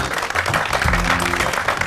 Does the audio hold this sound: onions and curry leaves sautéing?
no